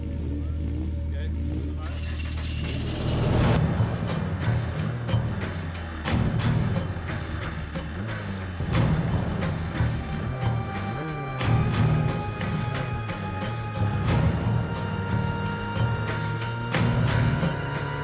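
A Formula Vee race car pulls away at a race start and then misses the shift into second gear: a loud, close engine revs and climbs, dips, then rises again, with other engines roaring around it.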